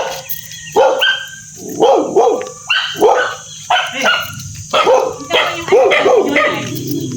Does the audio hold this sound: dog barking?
yes